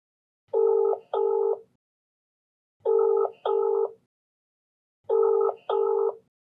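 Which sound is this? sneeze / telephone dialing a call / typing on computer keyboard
telephone dialing a call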